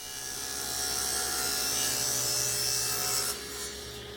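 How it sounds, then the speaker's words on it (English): A saw rips half-inch plywood into three-inch strips, a steady loud whine holding through the cut and easing off near the end, with no voices. "I'm using the 1/2 inch plywood for that, just ripping out a bunch of 3-inch strips"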